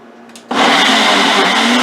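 Ninja blender mixing a thick fruit smoothie with orange juice: a quiet hum, then the motor kicks in at full power with a loud, steady whirring grind, close and alone.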